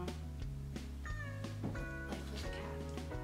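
A cat meows several times in short, close, moderately loud calls with brief pauses between them, over a soft background and no speech.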